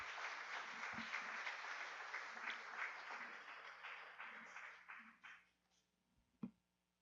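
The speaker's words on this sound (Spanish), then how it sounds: "Denle un aplauso al Rey." A church congregation applauds Jesus as King during a sermon: sustained clapping that thins out and fades around the five-second mark, followed by a few scattered claps and a brief bump near the end.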